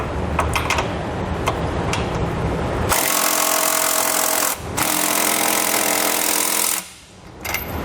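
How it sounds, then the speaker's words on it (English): A socket wrench with a 19mm socket snugs up Curt trailer hitch hardware on a 2019 Alfa Romeo Stelvio, giving bursts of loud, close mechanical rattling broken by two short pauses. "We are going to use a 19mm socket."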